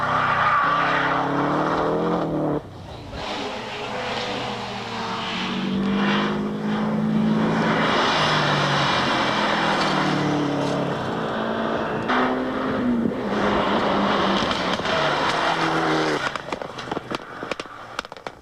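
A 1999 Mitsubishi Evo 6 rally car, Chris Atkinson's, drives a Targa tarmac stage, its engine roaring loudly up and down through gear changes and passing close, with no talk.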